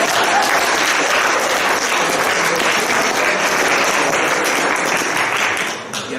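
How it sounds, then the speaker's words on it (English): An audience at a live Toastmasters training claps in a full, sustained round of applause, dense and even throughout before thinning slightly at the end. "You deserve a big round of applause"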